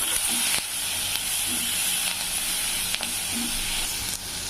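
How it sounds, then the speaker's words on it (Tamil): Steady, broadband sizzle of onions frying in hot oil with curry leaves and dried red chillies for Chettinad chicken gravy, with faint stirring scrapes now and then; close and continuous, no talking. "வெங்காயம் கொஞ்சம் வதங்கிட்டோம்"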